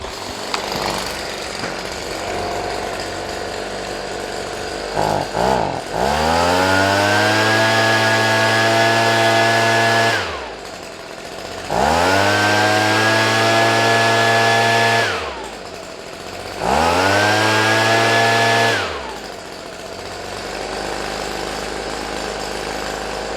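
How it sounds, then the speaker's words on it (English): Small two-stroke engine of a Stihl BG55 handheld leaf blower revs up to a loud high whine three times, each burst holding several seconds before dropping back to a rough idle, with a faint restart sputter beforehand. "to this BG55 Stihl handheld blower before I send it back to the man"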